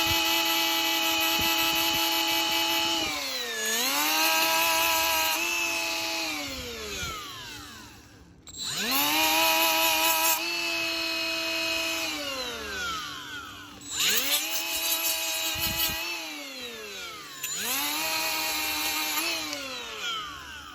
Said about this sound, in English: And then I'll just clean up as much as I can with the die grinder